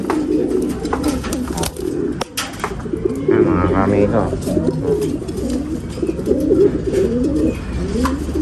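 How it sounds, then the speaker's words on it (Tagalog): Pigeons kept by a Filipino breeder coo and murmur close by in a loft, a low steady rolling sound running throughout under a man's speech. "Aawatin na natin yung mga kalapati na yan"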